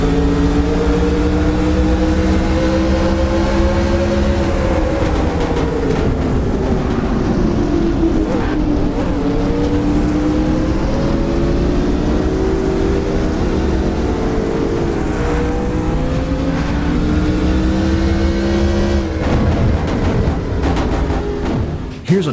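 Race cars roar around the short track at Pocono as in-car audio from the 72 car, a loud continuous engine drone that rises and falls through gear changes and corners, with other cars audible around it.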